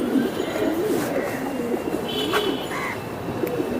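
A Giribaz pigeon coos repeatedly, low throaty rolling calls close by over a faint background hum.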